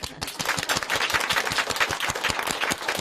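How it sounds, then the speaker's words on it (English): Audience applause at a Buddhist gathering in Qinghai, a dense, steady patter of many clapping hands filling the whole stretch at moderate loudness, with no clear voices over it. "Yeah, we applaud."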